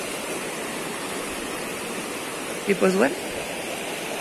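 River water swollen after Hurricane Iota rushes steadily through a widened mountain channel, a constant broadband roar heard close up, with someone briefly speaking over it.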